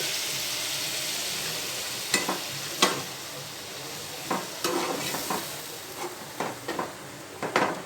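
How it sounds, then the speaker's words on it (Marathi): Cooked vegetables and dal are added to a hot tempering, sizzling and frying steadily in the pan, with scattered clinks and scrapes of a spoon stirring the food. "ही भाजी आणि डाळ जी शिजलेली आहे ती फोडणीला देऊन टाकायची"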